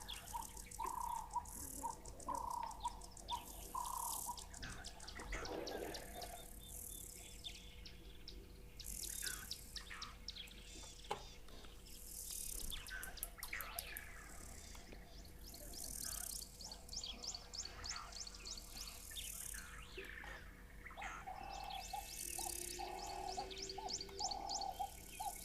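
Cape turtle dove cooing amid a dense outdoor chorus of other birds, with rattling chirps and steady insect or cricket buzzing throughout; calls overlap continuously at moderate distance.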